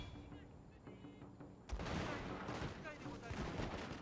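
Heavy booming cannon fire in Total War: Shogun 2 erupts after a quieter start, with repeated blasts and crackling volleys layered over dense battlefield noise.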